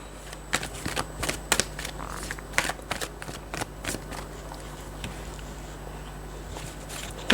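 Tarot cards being shuffled in quick papery bursts of riffling and tapping, close and moderately quiet, with no voice over it.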